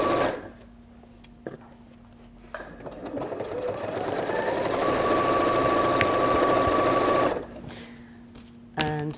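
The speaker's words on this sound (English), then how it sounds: "you can just move your needle across so that it stitches quite close to the edge" A sewing machine stitches along the edge of a hook-and-loop strip for a beanbag tray, running up to a steady, close, whirring drone for several seconds before it stops, with brief clicks at the start and the end.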